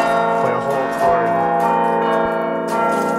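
A carillon of 72 tower bells sounds a chord played by hands and feet, rich sustained metallic tones ringing together with fresh strikes layered over the lingering hum.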